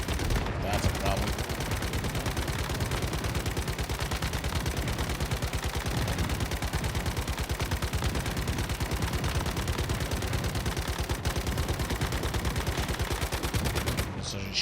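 Rapid automatic gunfire blasts at a boss in a video game, a loud, steady, fast stream of shots lasting about fourteen seconds without a break.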